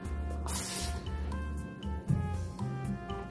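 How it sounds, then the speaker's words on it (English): A spray bottle gives a brief soft hiss of mist, up close and fairly quiet, over a faint background hum. "Look, comes in a mist and a continuous spraying."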